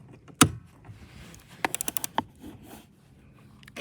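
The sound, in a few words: 14 mm wrench loosening a Toyota Tundra seat belt bolt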